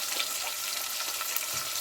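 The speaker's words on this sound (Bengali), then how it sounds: "এই চিকেনটা ভাজা ভাজা করে নেবো" Chicken fries with salt in hot oil, giving a steady, close hiss and crackle of sizzling with faint stirring ticks throughout and no voices.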